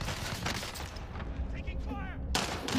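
Video game gunfire crackles in quick bursts of shots, up close and loud, layered over busy game noise with a voice talking over it.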